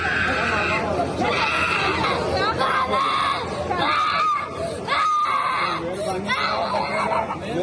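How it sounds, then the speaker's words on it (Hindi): A child screams and wails loudly in a Lahore High Court custody hearing, the harsh, rising cries cutting through crowd chatter and overlapping adult voices speaking throughout. "बच्चे ने चीखो पुकार शुरू कर दी।"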